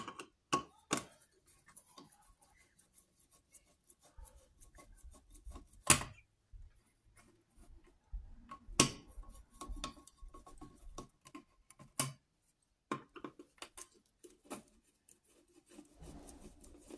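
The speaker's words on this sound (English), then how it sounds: "we'll unscrew our outlet out of the wall here" An electrical outlet being unscrewed from a wall box: intermittent scraping, rubbing and ticking of a screwdriver on screws, irregular and close, with quiet gaps between bursts and no voices.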